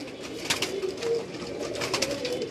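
Pigeons cooing on a Karachi rooftop loft, soft low coos repeating at an easy pace amid steady outdoor background noise, close by with no talk.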